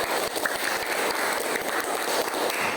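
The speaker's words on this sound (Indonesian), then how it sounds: "Tepuk tangan untuk mereka." A classroom full of students clapping steadily, a dense patter of hands that holds at an even level throughout.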